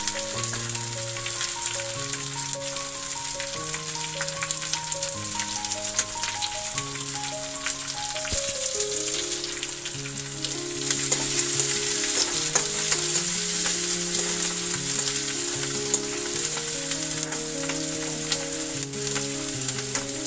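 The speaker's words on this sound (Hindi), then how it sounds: "लहसुन पक गया है, अब इसमें डालूंगा प्याज।" Onions and garlic frying in a pan for a dry spiced cauliflower and potato dish, a steady close sizzle with stirring throughout, accompanied by continuous melodic background music and no talking.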